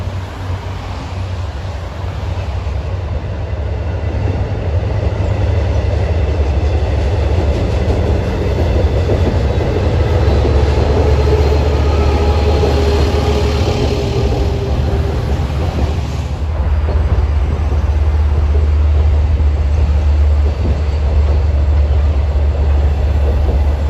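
Long Island Rail Road trains cross the Nissequogue River trestle west of Smithtown on the Port Jefferson Branch, a loud, continuous low rumble with rail clatter that holds for the whole stretch.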